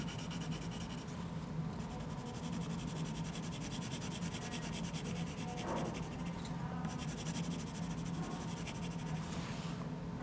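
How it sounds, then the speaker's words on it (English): Colored pencil cross-hatching on paper: a continuous, close, dry scratching of pencil strokes with a few brief pauses where the lines change direction. "Okay, cross-hatching, you're gonna cross your lines. Start out going diagonally."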